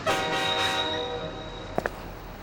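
A train pulls into a suburban station, a steady tonal hum with layered harmonics holding for nearly two seconds before fading, then two short sharp clicks close together near the end.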